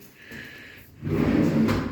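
A drawer in a bedroom wardrobe slides open or shut, first with a soft scrape, then with a louder, rumbling wooden slide lasting about a second, close by and with no talk.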